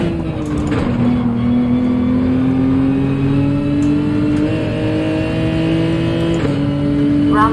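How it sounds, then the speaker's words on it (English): A Mustang race car in Gran Turismo 7 holds a loud, steady engine whine that climbs slowly in pitch, with a brief dip and a shift near the end, and other cars drone faintly underneath. "Oh, his Mustang's fast."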